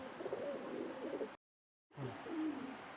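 Low, soft cooing from Pakistani high flying pigeons nearby, a few rolling coos before a short gap and more afterward, fairly quiet.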